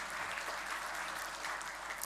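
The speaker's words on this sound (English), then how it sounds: "Huge round of applause for all of them" A large crowd at a university engineering first-year induction program applauds, a dense, even wash of clapping that holds steady throughout with no break.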